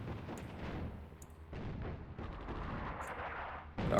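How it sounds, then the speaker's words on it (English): Artillery in the North Africa war game Attack at Dawn pounds away in a rapid series of booming blasts and bursts, dense and continuous with a sharp final impact, no voices. "Our artillery strike is over."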